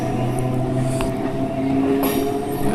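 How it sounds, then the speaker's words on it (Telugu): Vijayawada–Machilipatnam passenger train (07895) pulling out of Uppuluru station in push-pull mode, a loud continuous rumble of rolling coaches and engine drone with sustained tonal whine and a couple of metallic clanks, no voices. "ఇదిగోండి ఉప్పులూరు నుంచి డిపార్చర్ అయిపోయాడు"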